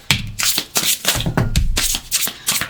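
Oracle cards are shuffled by hand in quick, close riffling bursts, about eight crisp flutters in rapid succession with short pauses between.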